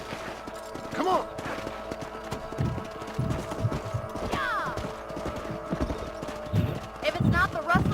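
Horses gallop in the Red Dead Redemption video game, a quick, steady clip-clop of hooves close by, with occasional spoken lines and game sounds over it.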